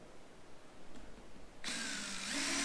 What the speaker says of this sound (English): This is my oldest DeWalt drill that I've had for a long, long time.